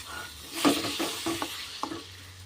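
Quail meat being stirred in a frying pan, with several short scraping strokes and a faint sizzle, close and alone without talk.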